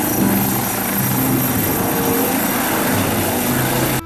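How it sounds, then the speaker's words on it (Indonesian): A toy coast police helicopter gives off a steady, loud whirring rotor drone that holds evenly for about four seconds, with no voices over it. "di sini ada helikopter polisi pantai"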